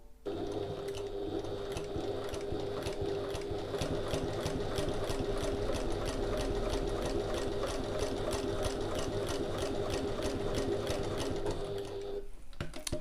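A sewing machine stitches fabric for a passport folio in one long continuous run, a steady rhythmic needle chatter at moderate level from start to finish before stopping.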